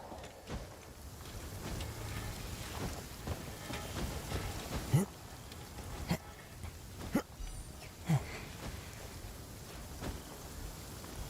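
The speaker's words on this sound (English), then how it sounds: "this rainforest sure does like to rain" Rain falls across a rainforest in Genshin Impact, a quiet, steady patter that runs throughout, broken by several brief sharp splashes or taps and occasional soft chirps.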